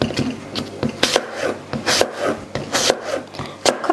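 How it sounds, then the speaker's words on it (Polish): Knife cutting an apple into slices, strips and cubes on a board: quick, repeated crisp chops and soft scraping strokes in an uneven rhythm, close and clear. "Kroję je w plastry w jedną stronę, w drugą stronę robiąc paski i teraz w kostkę"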